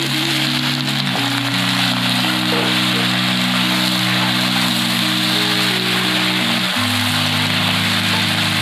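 Eggplant, beans and radish frying in hot oil, added after fried potatoes, giving a steady, loud, dense crackling sizzle throughout, with low droning hum beneath and no talk.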